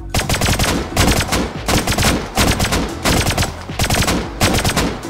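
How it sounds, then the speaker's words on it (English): Sustained automatic gunfire in the survival game Rust, laid down as suppressing fire during a clan raid: loud, close bursts of rapid shots in repeated volleys with short gaps between them. "I laid down, suppressing fire on the clan member while Blueprint continued breaking the turret."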